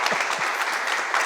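A short burst of studio-style applause plays as a sound effect on a podcast, dense clapping at even loudness throughout with no voices.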